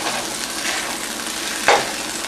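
Sausage and ground beef sizzle steadily in a large non-stick frying pan on high heat, close up, with a single sharp scrape of stirring near the end.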